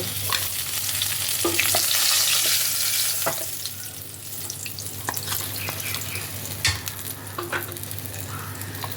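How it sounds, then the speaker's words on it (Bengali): Catla fish heads fry in hot oil in a kadai with a loud, continuous sizzle, louder at first and then settling, while a utensil stirs and clinks now and then. "মাছের মাথাগুলো ভালোভাবে ভাজা হয়ে গেছে"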